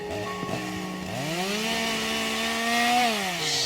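A chainsaw wielded by a chainsaw-man monster in a horror video game map, a loud, close, continuous buzzing drone whose pitch rises sharply as the engine revs up and holds high, with no talk.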